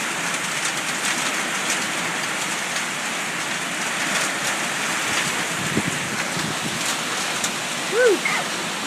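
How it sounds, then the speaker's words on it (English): Steady hail and heavy rain beat down during a summer storm, a dense close hiss throughout with a brief voice near the end. "There's still a little bit of hail."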